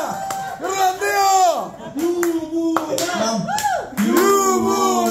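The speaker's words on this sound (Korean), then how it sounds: "조금만 더 크게 박수를 좀 쳐주셨으면 좋겠습니다." A live audience at a hip-hop performance claps in scattered bursts, mixed with loud, close shouting from the crowd and performers.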